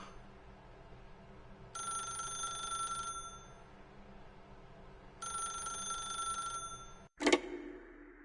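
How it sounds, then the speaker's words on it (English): A telephone in the video game The Stanley Parable rings in two long bursts separated by a pause, followed by a brief clatter as the receiver is picked up; no one speaks. "pick up the phone"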